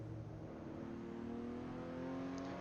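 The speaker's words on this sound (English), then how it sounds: "I like this shifting up a gear halfway through the corner." A Ruf RT12R sports car engine at the Mugello circuit, droning steadily at high revs mid-corner as it shifts up a gear, loud and continuous with a smooth tonal whine.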